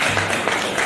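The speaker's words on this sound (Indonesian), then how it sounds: "Tepuk tangan tuh deh" Applause from a classroom audience during a teaching practice session, a dense, continuous patter of clapping filling the short moment at steady loudness.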